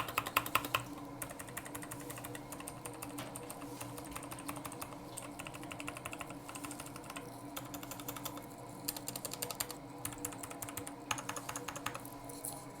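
Rapid clacking of a Skyloong SK64S mechanical keyboard, keys struck in quick bursts and runs with brief pauses, close up and crisp, no speech.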